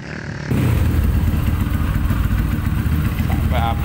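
A KLX or CRF dirt motorcycle engine runs loud and close, a steady rumbling idle that kicks in abruptly after a brief quiet start and holds throughout.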